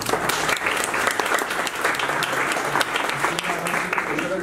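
An audience applauding a panel at a digital innovation event, dense sustained clapping from a crowd at close range that continues without a break, with voices faintly mixed in.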